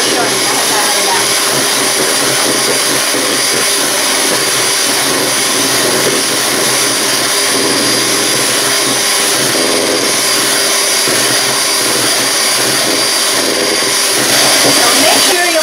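An electric mixer beats egg whites with cream of tartar and sugar for a mocha chiffon cake, a loud, continuous whirring drone that holds steady throughout.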